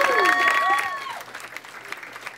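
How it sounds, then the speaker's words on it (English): A comedy club audience applauds and cheers, loud at first and then thinning into scattered claps over about two seconds. "how about a big round of applause for your wait staff?"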